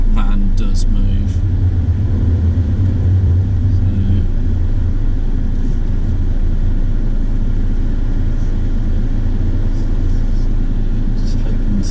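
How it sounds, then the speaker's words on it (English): Heavy road traffic moving around a roundabout on an Oxford driving route, a steady loud low rumble of engines filling the whole stretch, heard from inside a car. "there is quite heavy traffic on the roundabout"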